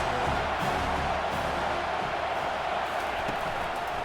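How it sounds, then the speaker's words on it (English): A dense, steady roar of a large stadium crowd at an NC State vs Notre Dame college football game fills the space, loud and continuous without clear breaks. "Listen to this crowd just shaking the girders of this place, trying to help their defense."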